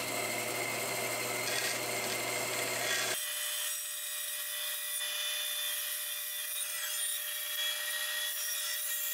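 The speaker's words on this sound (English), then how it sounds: "take it over to the bandsaw to cut it out." Bandsaw cutting an outlet hole in a wall panel: a loud buzzing cut with a strong low hum for about three seconds, then it stops and a fainter, thinner rasping whine carries on to the end.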